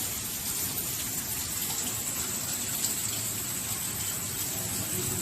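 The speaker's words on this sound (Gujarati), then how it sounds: "તો તમે ખાલી વરસાદ જોવો તો મસ્ત આવે છે, ઝીણો" Light, fine rain falls steadily as a continuous soft hiss with no voices.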